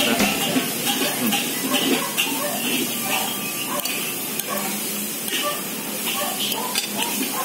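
Bakmi goreng noodles fry in a wok at a stall in Bintaro, with continuous sizzling and scraping stir strokes over a busy background, loud and close throughout.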